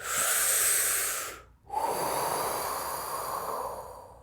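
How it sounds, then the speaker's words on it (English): A person demonstrates deep, long, slow breathing: one long airy breath, a brief pause, then another long, close, steady exhale that slowly fades. "breathing deeper, longer, slower, like this"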